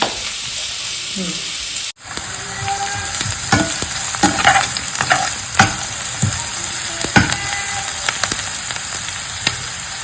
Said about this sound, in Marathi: इथे कांदा फ्राय होतोय